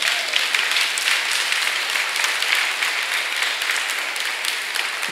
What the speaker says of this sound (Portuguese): Pode aplaudir, ninguém tem argumento na palavra.